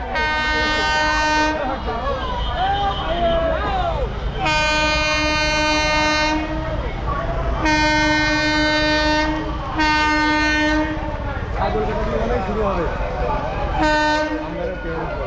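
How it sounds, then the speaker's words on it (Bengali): A new passenger train from Krishnanagar pulls into Amghata station, sounding several long, loud horn blasts over rumbling, clattering wheels and carriages close by. "সেই বহু প্রতীক্ষিত ট্রেন কিন্তু এখন আমঘাটা স্টেশনে ঢুকছে"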